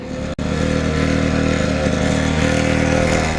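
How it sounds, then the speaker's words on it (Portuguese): A small 49cc gasoline motorcycle engine runs steadily and loud, holding a constant buzzing drone with a brief cut near the start, with no talk over it. "Uma moto que é movida a gasolina e tem 49 cilindradas."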